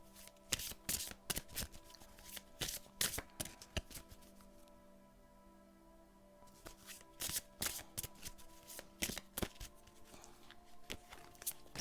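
A deck of oracle cards, Les murmures de la nature, is shuffled by hand and a card drawn. Close, papery riffles and slaps come in rapid bursts, with a brief quiet pause midway before the shuffling resumes.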